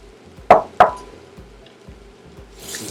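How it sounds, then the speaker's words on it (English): Brussels sprouts drop into a pan of toasted quinoa with two sharp, close knocks in quick succession, followed by faint pan noise. "I'm gonna go ahead and add our Brussels sprouts."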